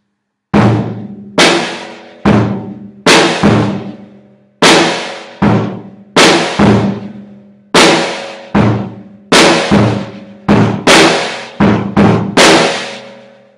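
Drum pattern played loud and close, punchy bass drum and snare hits in a steady repeating groove, each with a bright ringing decay, no voices.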